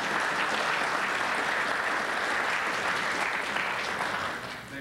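An audience applauds at the end of a lecture at the ICCF-6 conference, with dense, sustained clapping from a large room that holds steady and then begins to fade in the final second.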